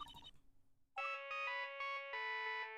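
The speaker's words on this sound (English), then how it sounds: "That's your ringtone? Is your phone a brick from the 80s?" An old-fashioned phone ringtone from the Gyakuten Live video game rings out in a loud, repeating electronic chime pattern of bright tones, following a brief stretch of other game audio.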